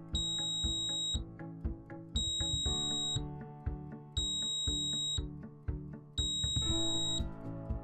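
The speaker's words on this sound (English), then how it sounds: "When you first plug it in, the alarm will chirp 4 times." A Safety Siren Pro Series 3 radon detector gives four evenly spaced, high electronic chirps, each about a second long, over steady background music.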